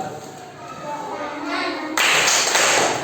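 Children in a classroom clap their hands during a clapping song, sharp hand claps that start sparse and then swell into a louder, fuller burst of clapping near the end, with singing and children's voices around them.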